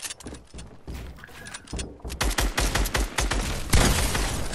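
Rapid bursts of video game gunfire crackle through a squad match, dense volleys starting, pausing, then returning louder and closer with a heavy shot near the end, with no talk.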